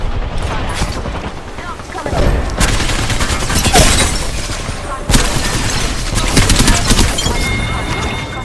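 Rapid bursts of gunfire in Apex Legends on PS4 Pro crack and rattle repeatedly, loud and close, with sharp impacts and a faint electronic tone near the end.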